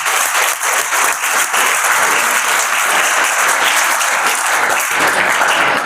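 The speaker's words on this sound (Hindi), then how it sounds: "इसके लिए जोरदार तालियां बजाएंगे।" Loud, sustained applause from a large crowd at a village gathering in Mundhal honouring a judge, sarpanch and social workers; the clapping stays thick and even throughout.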